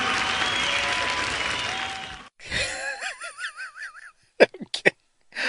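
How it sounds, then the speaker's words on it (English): A crowd at a 1986 NWA wrestling event breaks into loud, dense applause for about two seconds; the clapping then stops abruptly and voices and other sounds follow. "let's give them a round of applause."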